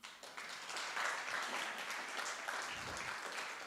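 An audience at an Artivism Week event claps in sustained, dense applause that rises quickly and holds at an even level throughout.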